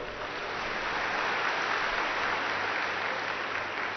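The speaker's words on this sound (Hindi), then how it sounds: "ताली बजाओ।" An audience at a spiritual talk claps together in sustained, even applause, a dense steady patter at moderate distance that swells slightly midway and continues without speech.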